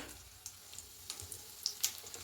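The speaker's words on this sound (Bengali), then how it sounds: "দুটো তেজপাতা আর একটু কিশমিশ দেব। দিয়ে হালকা একটু ভেজে নেব।" Bay leaves and raisins fry lightly in a pan for semolina payesh, giving a soft, low sizzle punctuated by several sharp, crackling pops growing more frequent toward the end.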